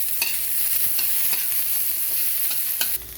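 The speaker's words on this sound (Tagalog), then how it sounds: "Igisa na natin yung ating bawang." Garlic sautés in hot cooking oil in a pan for a pork sinigang: a steady, close sizzle with the scrape and clatter of stirring, and no voices.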